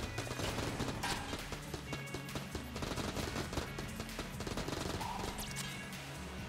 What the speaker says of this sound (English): I'm still able to fire once I'm out of ammo